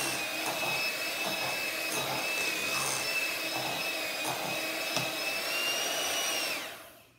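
An electric hand mixer beating pound cake batter of butter, eggs and cheesecake pudding mix, a steady high motor whine with tonal hum, scraping ticks against the bowl, then cutting off abruptly at the end.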